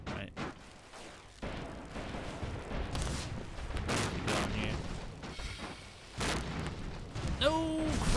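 Cannon and gunfire from battling airships in the strategy game Airships: Conquer the Skies, a steady run of muffled booms and bursts at mid distance, with a high tonal flourish near the end.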